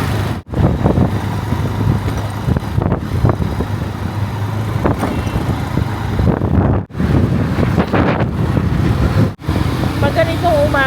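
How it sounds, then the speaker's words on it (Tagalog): Morning wind buffets the microphone in a steady low roar with a few brief drops, a vehicle-like rumble underneath, and no clear talk. "yung hampas ng hangin ba sa umaga"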